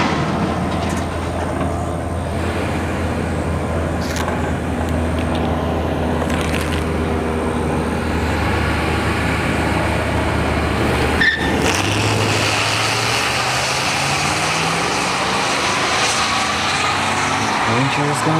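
Ranger and Silverado pickup trucks drag racing at ShowTime Dragstrip, a steady loud engine roar running throughout with a sharp burst near the middle, under a busy crowd and voices talking.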